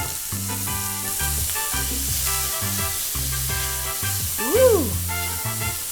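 Thawed frozen corn sizzles and fries in oil in a pan, a steady hiss running for the whole stretch, with a brief excited shout from a voice partway through.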